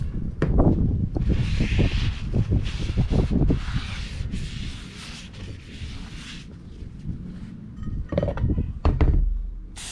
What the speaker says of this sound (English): Clean it with some brake clean.